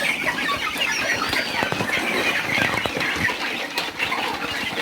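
Native chickens and young incubator-hatched chicks clucking and peeping on a backyard poultry farm, a busy continuous chorus of close calls with occasional flaps, no talk.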